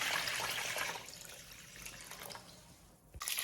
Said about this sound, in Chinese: 用清水给它清洗干净， 洗好之后过滤掉水分